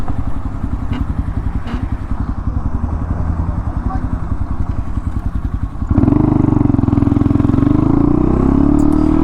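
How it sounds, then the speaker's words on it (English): A motorcycle engine runs with a steady rapid pulsing, then shifts abruptly into a louder, smoother drone partway through, close and continuous with no talk. "It's always nice when your bike makes random noises out of nowhere."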